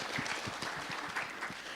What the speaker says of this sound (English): May we please give her a round of applause.